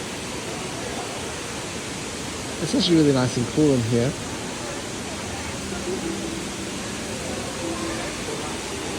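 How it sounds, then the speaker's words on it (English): A man-made indoor waterfall in a botanical garden rainforest dome gives a steady, broad rushing roar that fills the space, while someone briefly speaks over it. "There's a man-made waterfall, give it that humid feel."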